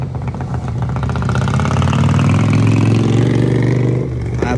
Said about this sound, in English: Oh no, it's the motorcycle.